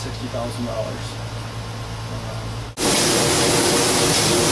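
A solvent recycling still at a metal products shop hums with a low, steady mechanical drone before switching abruptly to a loud, vacuum-like broadband rush that continues steadily.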